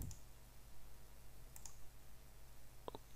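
A few quiet computer mouse clicks while applying a white material texture to a sofa model in Revit design software, with one brief click early and a sharper pair near the end over low room hum.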